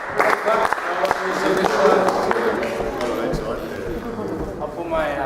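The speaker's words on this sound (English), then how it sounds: "Give us a clap" Studio audience clapping to welcome two guests to a cricket show's debate segment, a steady burst of applause mixed with a host talking over it.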